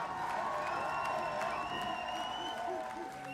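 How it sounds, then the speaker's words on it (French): A crowd cheers and claps for dancers, a dense sustained wash of applause with whoops and shouts, fairly distant, and a voice talking over it. "Un tonnerre d'applaudissements pour les danseuses, s'il vous plaît, messieurs, mesdames."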